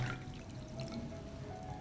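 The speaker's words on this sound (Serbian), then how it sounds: "U čašu sipam mlaku vodu." Lukewarm water is poured into a glass holding a spoonful of parsley seeds, a faint, steady trickle heard up close in a quiet room.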